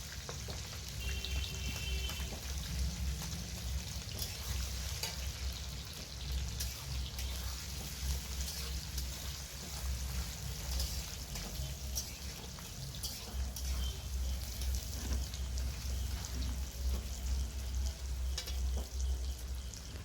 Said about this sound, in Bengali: পেঁয়াজটা হালকা ভাজা হয়ে গিয়েছে।